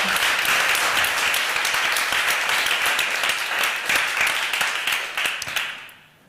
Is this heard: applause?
yes